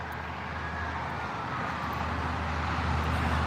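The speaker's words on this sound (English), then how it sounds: "Sorry about the noise. The highway is really loud." Loud interstate highway traffic produces a constant broadband roar heard during an evening walk, dense and unbroken, swelling slightly louder toward the end with no voices.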